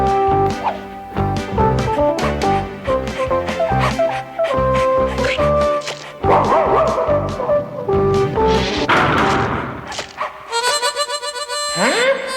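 Small cartoon puppies in a Garfield and Friends episode yipping and barking in quick repeated bursts, loud and close, mixed with whimpers, music-like tones and other cartoon sound effects.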